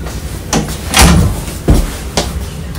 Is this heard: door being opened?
yes